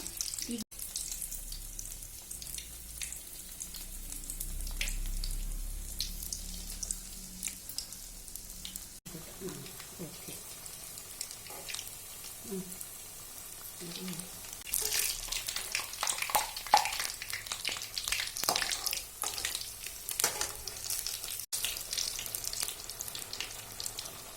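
Parippu vada, lentil fritters, sizzle and crackle as they fry in hot oil, a steady bubbling hiss that swells louder midway as more batter goes in, close up with occasional clinks.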